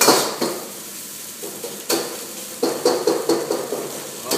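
Rice being stir-fried in a Chinese wok over a medium fire, with a steady close sizzle broken by repeated scraping and clanking strikes of the spatula against the metal pan.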